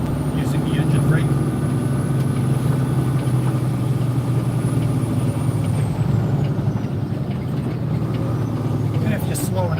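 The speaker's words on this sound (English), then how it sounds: "You can hear the truck decelerating on its own using the engine brake." Loud, steady low rumble of a heavy semi truck slowing on its engine brake while hauling about 108,000 pounds on snowy roads around Buffalo, NY, a continuous drone filling the whole stretch without a break.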